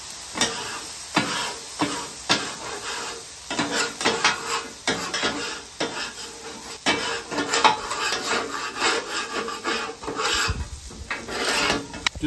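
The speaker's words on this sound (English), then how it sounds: "Just working on cleaning as you go to get your griddle ready for those eggs" A metal scraper rasps across a hot griddle during cleaning, with repeated close, gritty scraping strokes in an irregular rhythm and no talking.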